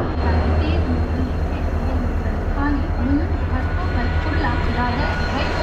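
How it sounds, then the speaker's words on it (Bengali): A local train bound for CSMT pulls into crowded Kalyan station, its heavy, steady rumble filling the platform while voices murmur underneath. "ঢুকে গেল CSMT যাওয়ার লোকাল ট্রেন"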